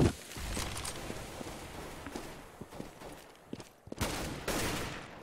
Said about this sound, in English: TCK taking down Neo, who is trying to shoot through that smoke.